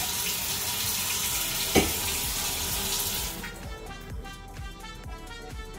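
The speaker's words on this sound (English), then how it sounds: "we're just going to fill this little thing up with water" Hot water poured into a small jar, a steady close splashing stream for about three and a half seconds, then thinning into lighter trickles and drips.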